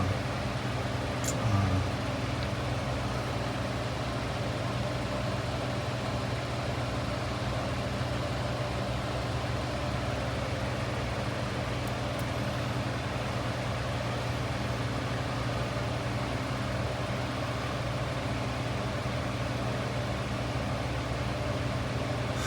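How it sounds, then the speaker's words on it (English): Car engine idling in a garage, a faint, steady low hum with a constant drone throughout and no voices. "she's got the engine running, and she's in the garage still."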